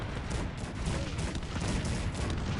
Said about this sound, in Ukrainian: Настрілює зараз Кетвізель просто гарматами